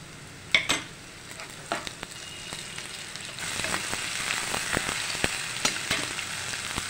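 Onions and a spoonful of garlic frying in a pan for a green bean and potato sabji. A steady close sizzle swells louder as the garlic goes in, with a few clinks and scrapes of a stirring spoon and no talking.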